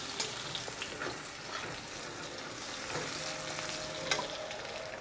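Onion and cumin seeds fry in hot oil for a Bengali prawn and taro dish, giving a steady close sizzle with faint scraping from stirring and no talking.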